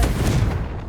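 A single heavy fiery blast from the Confringo spell in Hogwarts Legacy, a booming, low-heavy impact that rumbles and fades within a second.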